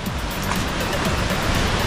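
River water rushes steadily and loudly during a crossing of the Panguil River in Laguna, a broad continuous wash of splashing flow with no talking over it.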